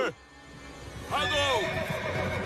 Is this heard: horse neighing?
yes